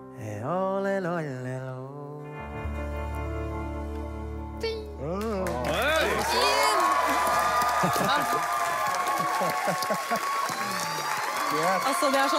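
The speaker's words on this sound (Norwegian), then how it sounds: "det er stående applaus" Singing gives way to a studio audience's standing ovation on a televised music game show: loud, sustained applause with cheering that builds and fills the room.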